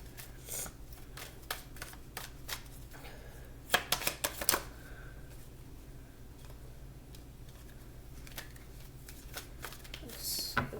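Tarot cards shuffled and drawn by hand, heard as soft, close riffling and crisp flicks in short bursts, with a louder cluster of slaps in the middle.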